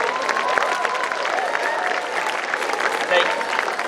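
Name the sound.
audience applause at alumni meet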